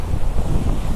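Sea waves and gusty wind at Delta Point beach near Malpe, Udupi, a steady close roar of surf with heavy wind buffeting the microphone, no voices.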